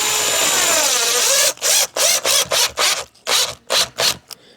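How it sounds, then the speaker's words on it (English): A screw driven into a PVC mini-split line cover against exterior siding: a steady powered whir, then a run of short, evenly spaced driver bursts as it snugs down, close and loud with no talk. "I'm screwing where the ridges like touch here"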